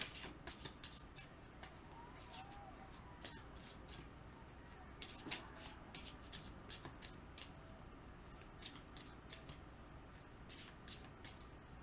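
A deck of magical Neko tarot-style cards being shuffled, faint and close, with quick riffling bursts repeating irregularly over a quiet room background.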